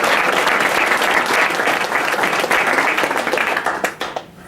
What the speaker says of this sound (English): So I want to give a big round of applause for Resale One.